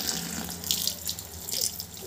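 Water is poured onto puffed rice for upma, a soft splashing stream with irregular surges of trickling and gurgling, close but fairly quiet.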